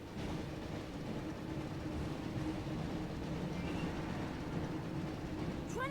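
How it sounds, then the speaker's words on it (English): The Hogwarts Express rolls along in the Harry Potter 2 PS1 video game, a steady rumbling train noise with rail clatter, fairly quiet and continuous with no talking. "Looks like we found the train, Ron."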